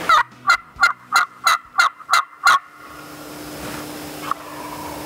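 A wild turkey gobbles in a rapid series of eight loud, rattling calls close by, followed by quiet outdoor ambience with a faint distant hum.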